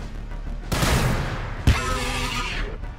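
A missile strike in the Warhammer 40k Battlesector video game lands as two loud bursts, a crackling blast followed by a sharper impact and a rumbling, debris-filled tail.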